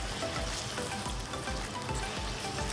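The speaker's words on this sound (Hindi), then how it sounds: "ये चिकन का कलर चेंज हो रहा है और अच्छा सा इसमें चिकन फ्राई हो रहा है" Chicken frying in a pan for chicken salan, a steady close sizzle and crackle with faint stirring scrapes underneath, continuous and alone with no talking.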